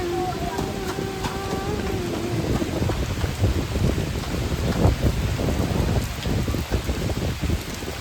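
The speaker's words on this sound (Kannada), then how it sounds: "ಮಳೆ ಬಂತು." Rain pours down outdoors during a village Ugadi festival, a loud continuous wash of drops with faint voices and scattered knocks beneath it.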